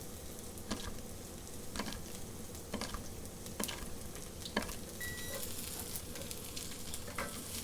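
French beans sizzling in a hot pan with other hard vegetables for vegan fried rice, a constant moderate frying hiss broken by regular scraping knocks as the pan is stirred.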